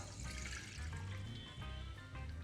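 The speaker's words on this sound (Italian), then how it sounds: "Mettiamo una casseruola sul fuoco, aggiungiamo acqua" Water runs steadily into a saucepan for a couple of seconds, making a close, continuous gurgling splash with no voices.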